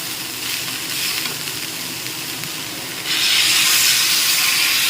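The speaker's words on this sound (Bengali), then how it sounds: "আর এটার মধ্যে দিয়ে দিচ্ছি জল" Water poured into a hot pan of cooking banana flower curry with coconut: a continuous steamy hiss that jumps louder and brighter about three seconds in, close and alone, with no talking.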